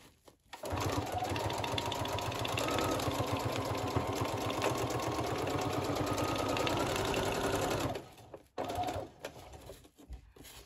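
A sewing machine stitches a journal cover made from bubble envelopes in a steady, rapid whir for about seven seconds, then stops and makes a few short bursts and clicks.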